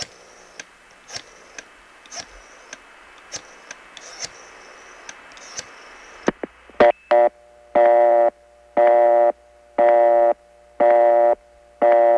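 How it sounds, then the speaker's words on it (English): Rows of faint dial-pulse clicks give way to a loud, regular telephone busy signal from a step-by-step exchange in Auburn, in New York's 315 area, reached by long distance from New York City. Steady on-off tone bursts repeat evenly, with no ring behind them. "the Auburn step doesn't have that ring in the back of its busy signal"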